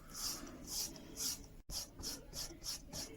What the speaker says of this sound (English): Let's go to a strop and let's just strop the back